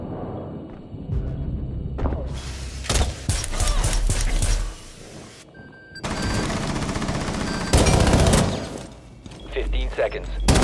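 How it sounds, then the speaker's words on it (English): Maestro's Evil Eye turret in the Rainbow Six Siege video game fires in rapid bursts, sharp clustered shots with mechanical whirs between them, loud and up close. "only Maestro can fire the turret"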